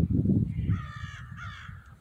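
Crows caw outdoors in a few drawn-out, harsh calls at moderate distance, following a short burst of low rumbling noise at the start.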